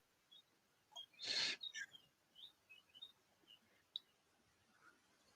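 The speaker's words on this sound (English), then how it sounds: "I still hate the birds cheeping" Small birds cheep in short, high chirps scattered across the clip, faint and distant, with one louder burst, heard outdoors on a sunny day in the background of a live call.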